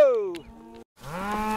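Cows on a Montana ranch cattle drive moo loudly and close by, one long falling call, a brief pause, then another drawn-out bellow, with no talk over them.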